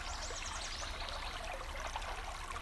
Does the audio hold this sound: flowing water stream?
yes